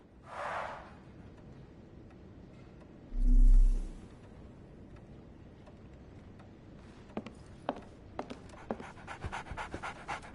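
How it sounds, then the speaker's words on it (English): A dog pants in a Sherlock Holmes video game, with a short burst of rapid breathing near the start followed by a soft low thump, then faint quiet ticking clicks over a low background hum. "So, Barnes has a dog now"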